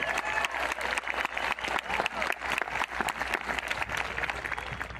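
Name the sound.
audience applause for teachers and staff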